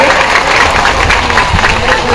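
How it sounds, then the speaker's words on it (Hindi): Sustained clapping from a large crowd at a political rally in Siwan, Bihar, dense and even for the whole stretch with some cheering mixed in. "जोरदार ताली बजा के इनका स्वागत करिए।"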